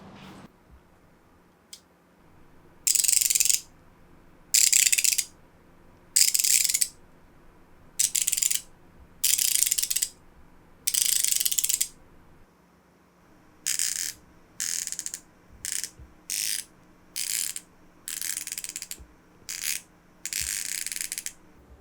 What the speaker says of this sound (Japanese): パチンパチンと言っていたラチェットの音も少しくぐもったようなおとなしい感じになりました